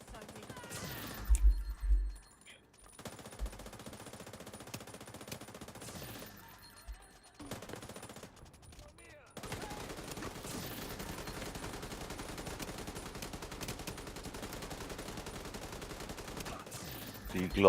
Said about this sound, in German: Ah, ich schieße mal mit hier.